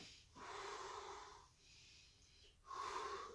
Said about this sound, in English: I'm keeping my breath continuous